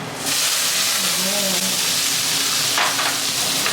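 Yellow curry paste sizzles loudly as it is stir-fried in a pan, with a continuous close hiss and the brief hint of a voice in the background.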